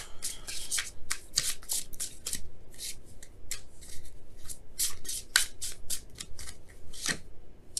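Tarot cards being shuffled by hand, a run of crisp riffling bursts and slaps repeating through the whole stretch, close and steady with no talking.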